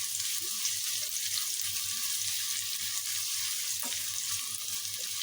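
Minced garlic and chopped onion fry in a pan, giving a steady, even sizzle and hiss with a few faint clinks and no talking.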